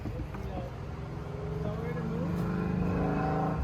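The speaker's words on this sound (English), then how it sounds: "So it cranks over." A Toyota Celica Supra engine cranks over with a steady rhythmic churning from the starter, growing slightly louder, while people talk nearby.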